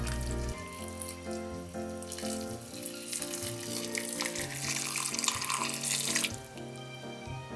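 Water pours into a frying pan holding soaked, rehydrated dried sweet potato stems, a steady splashing wash with faint sizzle, close and continuous under background music, with no talking.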